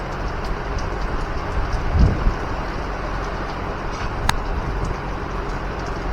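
Steady rain hisses over a toll road bridge construction site near Padang, a broad, constant wash of noise with a low rumble underneath and no voices.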